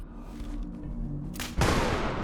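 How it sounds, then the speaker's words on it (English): An explosive arrow fired from a bow in the video game Fallout 76 detonates with a sudden loud burst partway through, following quieter game ambience. "now we have an explosive bow, and we're testing the poison arrows"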